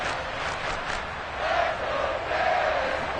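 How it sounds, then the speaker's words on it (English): A stadium crowd at an American football game between the Dolphins and Cowboys roars in a dense, sustained wall of cheering and shouting that swells in waves ahead of a big third down. "The crowd getting into it as we come up on a big 3rd down"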